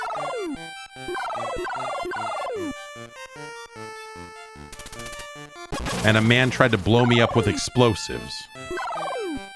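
Birds in a video game make rapid, descending gobbling calls in repeated bursts at the start and end. Someone talks over a busy, clattering stretch in the middle.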